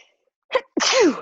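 A single sneeze, a short sharp intake followed by a loud burst, close by with nothing else around it.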